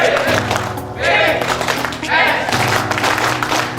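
An audience performs the rhythmic 'tepuk BPS' clap at a BPS Riau capacity-building event, with bursts of group clapping alternating with chanting voices in a patterned, call-like rhythm.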